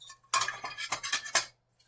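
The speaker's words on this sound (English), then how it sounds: "We got the case, which is metal, so very durable." Metal case of a Clockwork uConsole DIY handheld handled up close, giving several sharp clinks and knocks in quick irregular succession over about a second, then stopping.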